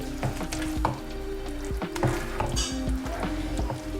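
Gluten-free chicken tikka masala with rice sizzles in a pan while being stirred, with steady frying hiss broken by repeated clinks and scrapes of a utensil against the pan.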